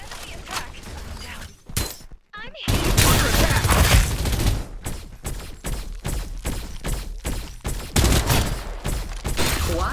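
Heavy video-game gunfire in Farlight 84, dense bursts and shots pounding continuously and loud, with a brief drop near two seconds, plus shattering impacts and a little voice underneath.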